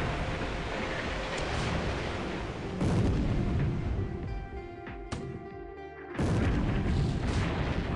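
Heavy naval gunfire in a battle video game, warships trading salvos with shells striking the cruiser Constellation: sustained roaring booms with sudden sharp onsets and dense rumbling, loud and continuous throughout.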